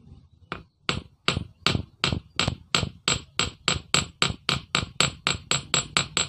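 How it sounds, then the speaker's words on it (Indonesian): Hammer blows flattening a bent metal piston piece, a steady series of about twenty sharp, loud metallic strikes at an even rhythm, close up with no talking. "langsung digepengkan menggunakan palu seperti ini."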